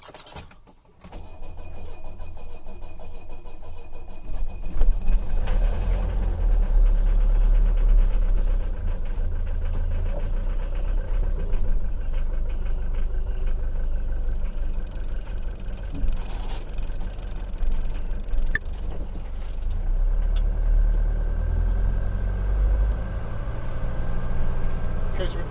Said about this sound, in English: going to go for a quick drive and warm the car up